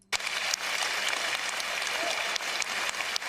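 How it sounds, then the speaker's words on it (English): A studio audience at a live talk show breaks into steady, dense applause that starts abruptly and carries on loud and continuous for the whole stretch, with a few sharper claps standing out. "I'm clapping because everybody else is."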